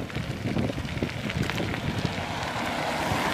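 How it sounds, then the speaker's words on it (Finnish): Strong gusting wind buffets the microphone of a person cycling, a loud, close, continuous rumbling roar with rough bursts throughout. "Täällä sitten tosissaankin tuulee aika reippahasti"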